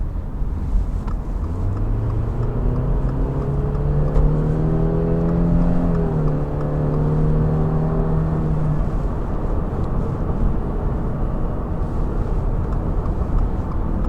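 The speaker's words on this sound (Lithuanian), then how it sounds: "Paklausysim e-boxer variklio garsą ir pažiūrėsim" A 2024 Subaru Crosstrek with the e-boxer hybrid boxer engine accelerates, its drone climbing smoothly in pitch for several seconds before levelling off into a steady hum of road and engine noise.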